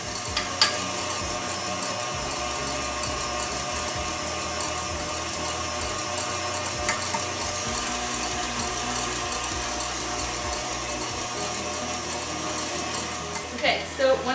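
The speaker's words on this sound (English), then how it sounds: "you keep the mixer on medium speed and we're going to gradually add 1 tablespoon of" An electric mixer runs at medium speed, beating egg whites and sugar for a pavlova, giving a continuous even mechanical whir with light rattling from the bowl.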